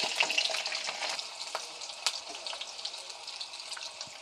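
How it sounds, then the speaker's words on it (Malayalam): Mustard seeds and garlic sizzle steadily in hot sesame oil, a dense bright crackle with scattered sharp pops throughout, close and fairly loud with no voices. "കടുക് പൊട്ടി വരുമ്പോൾ നമുക്ക് വെളുത്തുള്ളി നന്നാക്കി വെച്ചാണ് അത് ഇട്ട് കൊടുക്കാം"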